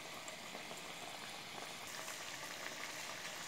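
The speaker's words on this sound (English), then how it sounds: "we will wait for another 5 minutes to let it fry completely" Sabudana pakodas deep-frying in hot oil, a dense, steady bubbling sizzle that fills the whole stretch without pause, close and moderately loud.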